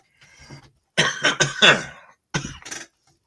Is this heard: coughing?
yes